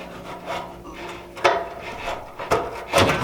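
A flexible cleaning rod scrapes and rubs up inside a chimney flue, making irregular rasping scratches with a few sharper, louder strokes near the end.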